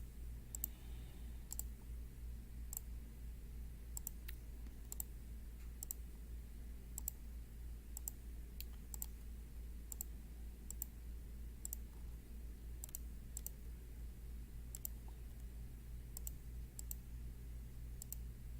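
Mouse clicks made while drawing with the pen tool in Adobe Illustrator, sharp light single clicks spaced irregularly every second or so over a steady low hum, close and fairly quiet with no talking.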